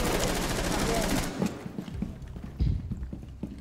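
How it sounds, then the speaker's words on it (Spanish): Gunfire in Rainbow Six Siege rattles in a dense, rapid burst of automatic shots, then trails off into scattered thumps and single cracks, loud and close. "Madre mía, nos están fusilando."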